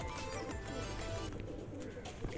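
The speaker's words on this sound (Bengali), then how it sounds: "রেয়ার ব্রিডের পায়রা আছে" Rampuri pigeons, a rare breed kept for sale, coo softly and steadily over a dense bed of background noise and murmuring, their low rounded calls repeating closely through the short stretch.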